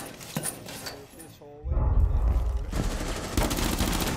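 Rapid bursts of video game gunfire in a multiplayer shooter round, loud dense volleys starting partway through and continuing to the end, with excited players talking over it.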